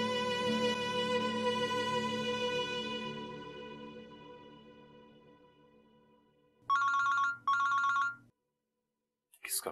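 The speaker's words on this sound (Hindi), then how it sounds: "किसका फोन है?" An electronic phone ringtone rings in a Pakistani TV drama scene: two loud, close bursts that follow soft background music as it fades, then a short silence.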